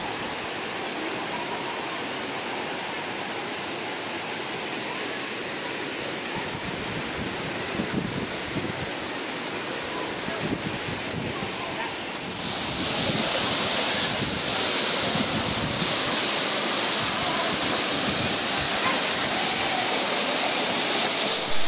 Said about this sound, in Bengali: অবশেষে একদম ঝর্ণার সামনে আমরা পৌঁছে গেছি